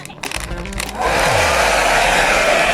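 A hair dryer kicks on at full power, its broad steady roar rising after a brief rustle and holding loud and constant, aimed at clearing pen ink from paper.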